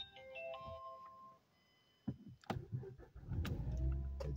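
A Mazda 3 is switched on: chimes and warning tones sound from the dashboard, followed by a short burst as the system powers up and a low engine-like rumble builds, all close and moderately loud.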